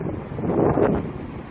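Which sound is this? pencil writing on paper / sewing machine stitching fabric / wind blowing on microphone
wind blowing on microphone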